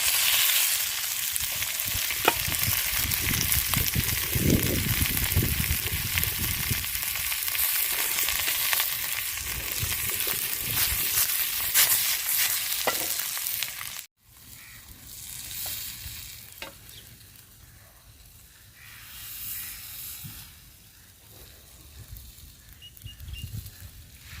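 Fish wrapped in banana leaf fries in coconut oil with a steady, loud sizzle and occasional stirring scrapes; after a brief cut midway the frying continues quieter and more subdued.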